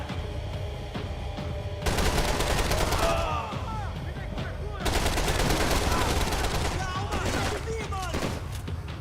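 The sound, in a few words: gunfire from the video game Max Payne 3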